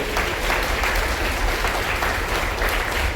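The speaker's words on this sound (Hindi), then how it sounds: "इस बात पर भी जोरदार तालियां बजनी चाहिए।" Loud, steady applause from an audience at a Guru Purnima and honoring ceremony at Swami Vivekananda school in Nehru Nagar, a continuous dense clapping throughout.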